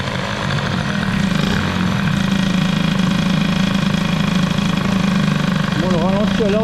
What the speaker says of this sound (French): le ralenti a l'air de forcer encore un petit peu